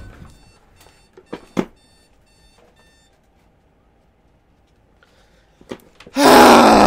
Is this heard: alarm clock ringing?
yes